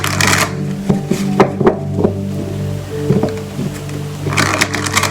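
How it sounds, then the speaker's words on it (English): Tarot cards shuffled by hand at a reading table: a series of crisp riffling bursts and soft taps in irregular rhythm, close and clear over a low steady hum. "just shuffle the cards"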